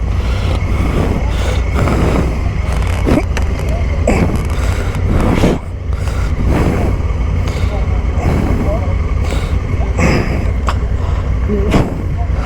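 Honda NT1100 motorcycle being ridden, its engine droning steadily and loud alongside wind noise and a few surges, with a rider talking over it.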